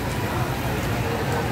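Rain falling at a wet morning market in San Juan, Batangas, a steady broadband patter that fills the whole stretch at moderate level, with market bustle and voices mixed underneath.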